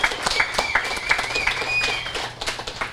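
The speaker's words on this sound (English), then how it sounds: "So actually, please give Margarita a round of applause." Small audience at a bookshop reading clapping for a reader, a sparse, uneven patter of hands with a few sharper claps standing out over a faint steady tone, fairly close.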